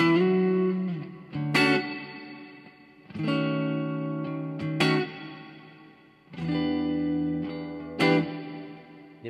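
An electric guitar played through a multi-effects unit with reverb rings out in sustained chords and notes, each strike followed by a long, washing tail that fades before the next.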